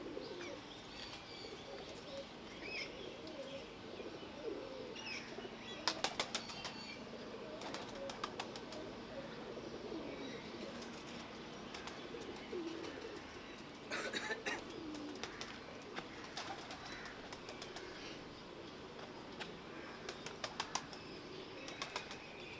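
Racing pigeons at a one-day championship coo softly and flap their wings in bursts, with faint talk and open-air background noise throughout.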